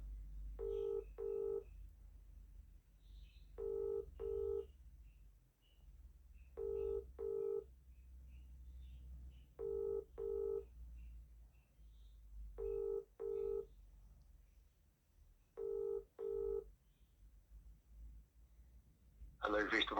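An outgoing telephone call rings out with steady paired double-burst ring tones repeating about every three seconds over a faint line hum, ending as a voice begins to answer.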